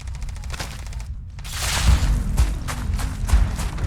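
Gunfire in Starfield rattles in dense, fast volleys close by, with a brief drop-out before heavier booming shots and a continuous crackling barrage that carries on to the end.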